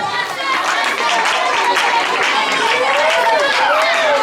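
A schoolchildren's audience at a school prize ceremony claps and calls out for three pupils, a steady loud burst of applause and chatter with voices rising over it throughout.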